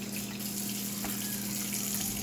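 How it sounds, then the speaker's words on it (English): Tap water runs steadily into a sink for hand washing before baking brownies, a constant close rushing with no talk. "we need to wash our hands first"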